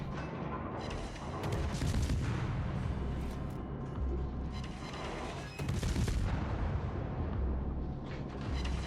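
Tank cannon firing armor-piercing shells in a video game, heavy booming shots and rumbling blasts over a continuous loud engine-and-battle din, with sharp spikes near the start and midway.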